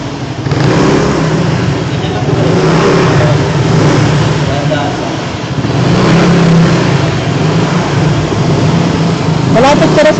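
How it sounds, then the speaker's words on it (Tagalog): A motorcycle engine revs and drones loudly nearby, rising and falling, while people talk over it. "Tunog ng motor."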